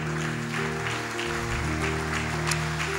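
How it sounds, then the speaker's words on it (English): An audience at a church service claps in a short, scattered patter, moderately loud over a sustained musical backing of keyboard-like tones. "If you're going to clap, clap better than that."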